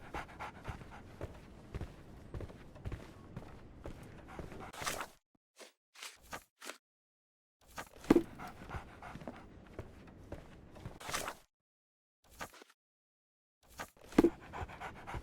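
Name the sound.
dog panting in video game Sherlock Holmes The Awakened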